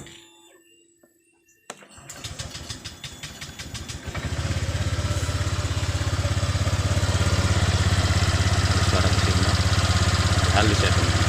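A Vario 125 scooter with weak power and a rough-sounding CVT cranks and catches after a quiet start, then settles into a steady, loud idle rumble that continues to the end.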